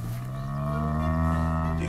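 A cow moos in one long, loud, sustained low call that fills the whole moment, heard up close with no talking over it.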